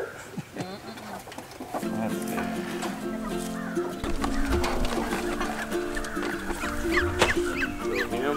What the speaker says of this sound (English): these ducks here are black Muscovies